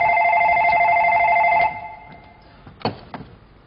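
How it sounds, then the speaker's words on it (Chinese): A telephone bell rings loudly in a steady, continuous trill for under two seconds and then stops, leaving a few faint clicks in a quiet room during a stage comedy sketch. "队长来电话了，你坐一会儿，坐"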